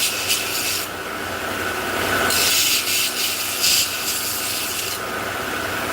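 Protruding pins on a knife handle are sanded down, producing a loud, continuous abrasive rubbing that swells and eases over several seconds without any talking.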